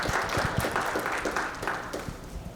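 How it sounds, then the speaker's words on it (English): Applause from an audience at a domestic violence healing and prevention talk, a moderate patter of many hands clapping, fairly steady over a couple of seconds. "please give a round of applause for Dr."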